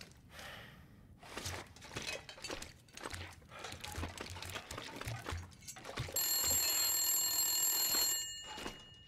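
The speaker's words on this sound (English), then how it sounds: "I just heard a phone ring." A telephone rings inside a phone box in the survival video game The Long Dark, a bright sustained electronic ring that starts partway through, following clattering footsteps, item handling and rustling game sounds.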